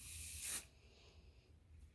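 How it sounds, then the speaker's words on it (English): A can of hairspray is sprayed onto the tip of a fabric strip for bias tape, one short close hiss lasting about half a second, then near silence with faint rustling. "this is hairspray, and I'm going to spray the tip with hairspray."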